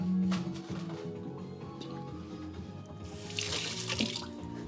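Tap water runs steadily into a sink as a tiny whisk is rinsed, a close splashing stream that swells louder near the end.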